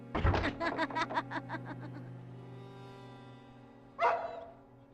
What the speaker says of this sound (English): We again hear barking